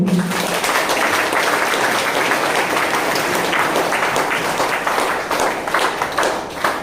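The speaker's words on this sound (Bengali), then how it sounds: "সবাই সবার নিজের জন্য একবার জোরদার হাততালি চাইব" A hall audience at a business family gathering breaks into sustained, dense applause, many hands clapping loudly and steadily at close range, with no voices over it.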